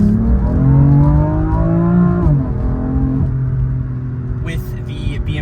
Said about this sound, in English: This is a twin turbocharged inline 6, which is the truest form of a BMW.